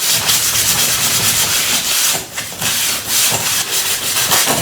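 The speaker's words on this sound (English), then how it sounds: "I'm going to use a bit of sandpaper along there." Sandpaper rubbed back and forth along a piece of wood for a handmade Jacob's ladder toy, a loud, close, continuous rasping scrub with brief dips between strokes, no voice.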